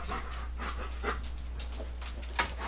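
A dog pants in quick, steady breaths nearby, with soft rhythmic huffs over a constant low hum.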